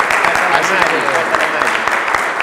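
Audience applause at a press conference for a signing of an electrical infrastructure agreement: dense, steady clapping from a crowd, close and fairly loud, with some voices mixed in.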